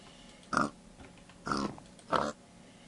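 A pig in the video game Minecraft oinks in three short grunts, close and clear, spaced about a second apart against faint background noise.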